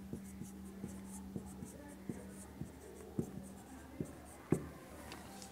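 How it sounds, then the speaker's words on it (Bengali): Pen writing by hand on paper, a faint steady scratching with regular light taps as strokes begin, continuing alone in a quiet room. "আমি আলাদা করে লিখে দিচ্ছি"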